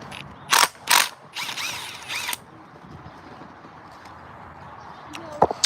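A ratchet clicks in a few short bursts while AC compressor bracket bolts are removed from a BMW X6, close and moderately loud, followed by quieter workshop handling noises.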